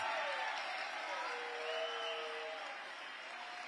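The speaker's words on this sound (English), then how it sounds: "Please give her a big round of applause" Applause rises for First Lady Cora Masters-Berry at a senior holiday celebration, a steady, fairly distant wash of clapping from a crowd that continues for several seconds with a faint whoop or tone drifting over it.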